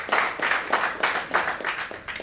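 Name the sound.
audience applause, clapping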